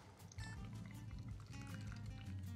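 A cocktail is poured over 1x1 ice cubes in a glass, giving a soft steady trickle of liquid that runs for a couple of seconds, close and quiet, with no talking.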